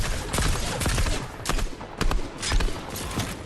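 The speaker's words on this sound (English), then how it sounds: "Using a lot of their gunfire" Rapid bursts of game gunfire crackle continuously, overlapping shots from several weapons with sharp cracks standing out above a dense, noisy battle bed.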